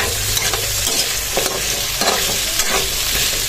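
Corned beef and potatoes fry in a pan under a constant close sizzle. A spoon scrapes and stirs through them in several distinct strokes.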